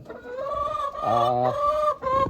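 Chickens cluck loudly and close by near a chicken coop, a few drawn-out calls overlapping one another with short pauses between them.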